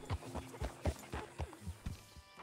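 Horse hooves clip-clopping in the video game Red Dead Redemption 2 as the horse slows to a stop, a handful of uneven thuds close by with no talk over them.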